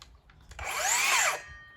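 A Dewalt DCS573 cordless circular saw running on a 2 Ah battery spins up with a rising whine, holds a loud steady pitch for about a second and then winds down, recorded close with no talking.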